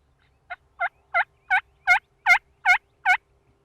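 A hunter imitates a turkey mating yelp with a mouth call: eight evenly spaced, rising yelps, clear and close, with no talking.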